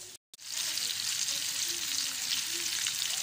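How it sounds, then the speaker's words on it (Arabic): Breaded chicken pané fries in hot oil with a steady, bright sizzle that stays close and even throughout after a brief silent cut at the start. "بيتقلي البانيه"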